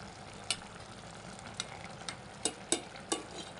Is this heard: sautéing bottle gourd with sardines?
yes